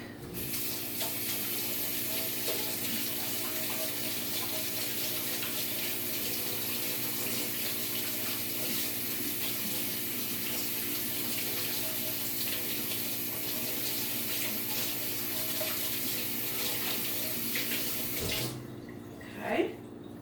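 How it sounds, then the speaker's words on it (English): A kitchen tap runs steadily for nearly twenty seconds while hands are washed, a constant close rush of water that shuts off near the end, followed by a brief clatter. "I'm going to wash my hands real quick."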